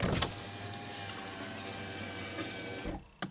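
A steady car power window motor whir runs for about three seconds as a Honda window goes down, then stops with a soft click, close and fairly quiet.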